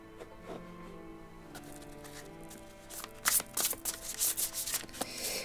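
A deck of tarot cards shuffled for a reading, close by: quiet at first, then rapid papery riffles and flicks in dense bursts through the second half over a faint steady background.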